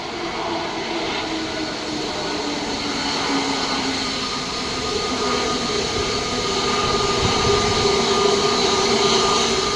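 Steady jet engine rumble and whine from an Air India airliner taxiing toward takeoff at Mumbai international airport, continuous and moderately loud at a distance with no talk.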